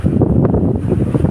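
Rough sea waves slapping around a small boat near a mangrove park in Barangay Looc, Palanas, a steady rushing wash with heavy wind buffeting the microphone throughout.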